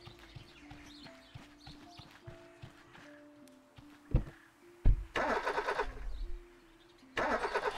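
A car engine in Project Zomboid cranks and starts after some light clicks and thumps, then runs in loud bursts, with faint birdsong in the background.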